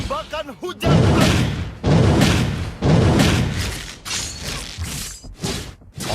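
A fire rain shot skill effect in a video game bursts out as a series of loud, crashing impacts and booms that surge and fade in rolling waves, following a short voiced call at the start.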